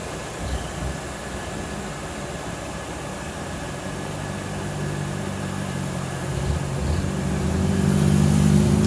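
A 1947 Ford Super Deluxe's engine runs at a low, steady idle, then the sound grows louder and rougher toward the end as the engine builds. No speech is heard.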